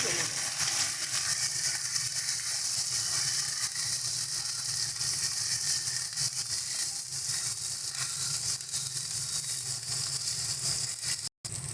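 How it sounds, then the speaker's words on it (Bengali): Green chilli paste and ginger paste fry in hot oil in a pan as masala for pomfret curry, giving a steady, even sizzle with a faint hiss that runs unbroken for several seconds. "ভালো করে মশলাটা কষিয়ে নেব।"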